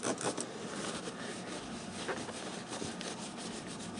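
A cloth wipes an oil film off the metal surface of a South Bend lathe, making a soft, continuous rubbing and scrubbing sound up close with no talking.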